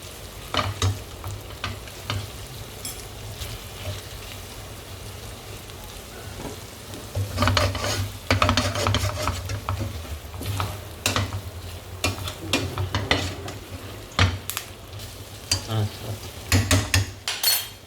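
Mutton pepper chukka, Virudunagar style, fries in oil with curry leaves, a close, continuous sizzle broken by repeated scraping and clanking stirs against the pan.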